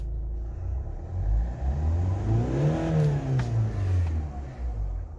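A car engine revs hard at full throttle but hangs near 3000 RPM in limp mode, with a rising then falling loud rumble, close and continuous, and no talking.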